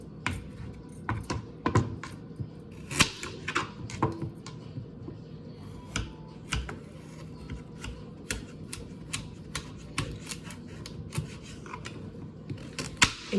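A knife slices through carrots on a cutting board, sharp clicking chops in an irregular quick rhythm, close and fairly crisp.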